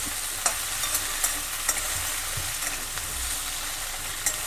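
Continuous sizzle as ground spice paste fries in a hot pan for an okra curry, with intermittent scraping clicks as it is stirred, close and fairly loud, without voices.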